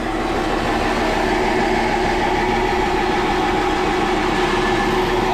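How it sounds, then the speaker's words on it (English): A mini loader's engine runs steadily inside a farm barn, a loud continuous rumble and drone with no breaks, close by and alone. "Mini loaders are amazing."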